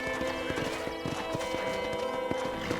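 Steady clip-clop of horse hooves at a walking pace in the video game Red Dead Redemption, moderately close, over a continuous musical background.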